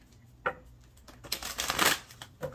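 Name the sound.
shuffling tarot cards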